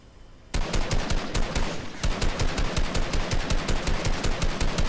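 Rapid automatic gunfire from a Fortnite match, a loud dense burst of fast repeated shots starting abruptly after a brief quieter moment and continuing steadily to the end.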